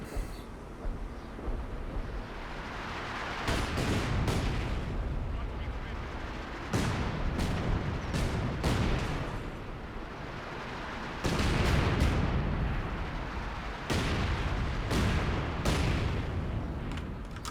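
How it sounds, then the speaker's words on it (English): LEFH howitzer shells from Company of Heroes 2 land in a run of sharp, booming detonations. They come at irregular intervals over a continuous rumbling battle din, with a voice talking underneath. "Scatter on those shells seems wider than I remember it being"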